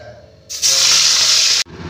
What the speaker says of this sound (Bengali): মাছগুলোকে এবার ভেজে নিচ্ছি আস্তে আস্তে